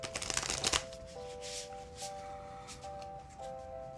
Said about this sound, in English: It's kind of a tall deck to shuffle.